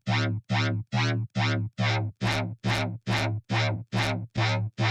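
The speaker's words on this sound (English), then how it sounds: "And a flanger to give it some squarish movement." Synth notes in a dubstep production pass through a flanger driven by an envelope follower, eleven evenly spaced buzzy pulses, each with a sweeping, swooshing tonal shift, loud and dry.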